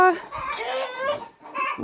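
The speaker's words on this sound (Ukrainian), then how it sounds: "Господи, кури кричать" Chickens in a farmyard poultry flock clucking and squawking loudly and close, with a harsh drawn-out crow-like call and another burst of squawks after a short pause.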